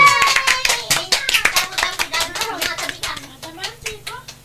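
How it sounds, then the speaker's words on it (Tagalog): A few people clap in sharp, irregular bursts at close range, the hand slaps loud at first and thinning toward the end, with voices and laughter mixed in among the claps. "tinabara palakpak."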